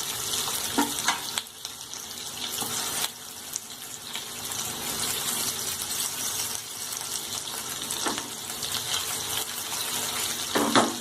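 Cabbage pieces fry in moderately hot oil in a pan, making a continuous dense sizzle with a few brief louder bursts, heard close with no talking.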